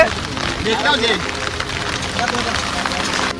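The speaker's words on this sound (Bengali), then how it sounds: "বৃষ্টি পড়ছে" Rain falls steadily during a monsoon downpour near a Sundarbans river, a close, even hiss of drops on surfaces beneath people talking.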